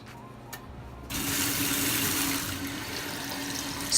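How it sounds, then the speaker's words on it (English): Warm tap water runs steadily from a faucet, rinsing etching cream off a glass piece; a quiet start gives way to a sudden, continuous rushing splash that stays fairly loud and close. "It's time to wash it all off with some warm water."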